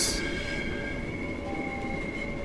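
Class 465 Desiro City electric train in Train Sim World 3 at Dartford station, a steady near rumble with a bright hiss at the start and sustained tonal whine running throughout, loud and continuous with no talk.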